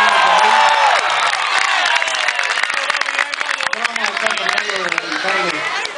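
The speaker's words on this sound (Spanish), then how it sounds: "Y aplauso para los mulatos del sabor," A salsa concert crowd roars with loud cheers, whoops and applause for a Puerto Rican band, many voices shouting over dense clapping close by.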